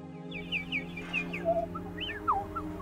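People try to outdo each other imitating bird calls, producing a series of high, sliding whistled chirps and warbles. The calls are close and clear over a steady low background hum.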